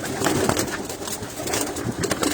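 Pigeons, kept by a breeder, coo softly and repeatedly in a close, busy loft, with a steady mix of overlapping calls and rustling throughout.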